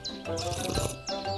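Small birds nesting in a bicycle basket give a few quick high chirps in short bursts over a busier background, close and brief.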